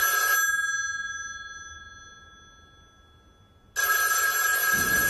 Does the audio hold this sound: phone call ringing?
yes